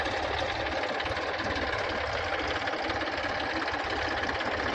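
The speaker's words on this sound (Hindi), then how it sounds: "चालू है ट्रैक्टर फील्ड में।" A tractor engine runs in a farm field during the digging of a water tank, a steady, continuous mid-pitched chugging drone with faint knocking, moderately distant and without any talking.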